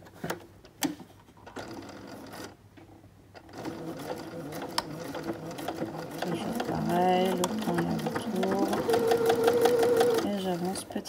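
A sewing machine runs steadily as it stitches the final seam of a fabric scrunchie, sewing close to the edge through two layers, its motor hum gradually building after a few quieter handling sounds at the start.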